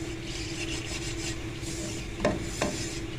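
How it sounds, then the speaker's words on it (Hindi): Flour being stirred and roasted with butter in a pan over a low flame, a steady soft scraping rub over gentle sizzle, close by, with two sharper scrapes near the end. "ये लीजिए, मैदा जो है हमारा बहुत अच्छे से भुन चुका है।"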